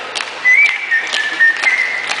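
A person whistles a bright, lilting melody alone, the notes sliding and held in a cheerful tune, close and clear.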